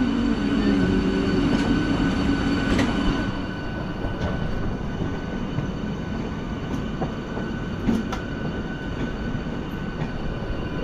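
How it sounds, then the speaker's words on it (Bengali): Train running on the line out of Howrah, rumbling wheels and rail noise with faint squeals and a clatter of passing carriages, loud and close, steady for the whole stretch with no talk. "এই লাইনটাই যাচ্ছে আমাদের ট্রেন এখন।"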